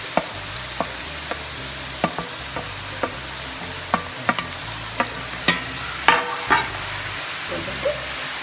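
Goat intestines sizzle in a pan with sautéed shallots, with a steady frying hiss and sharp, regular scraping knocks from a spoon stirring about once per second.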